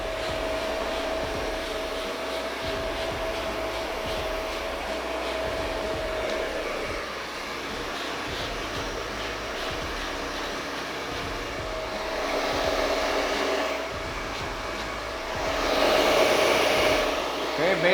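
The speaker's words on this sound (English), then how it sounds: "Try not to stop your blow dryer." A blow dryer runs steadily throughout with a constant whir, its pitch and loudness shifting slightly as it moves over hair during a barbershop haircut.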